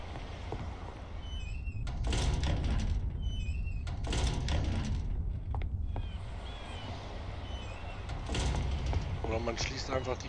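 A door is closed in the video game Mafia, producing several heavy thunks spaced a few seconds apart, with a voice talking over the sounds.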